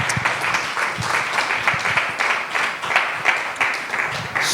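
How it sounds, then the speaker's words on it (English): An audience gives a steady round of applause, a dense patter of many hands clapping with light rhythmic surges. "Let's give her a round of applause"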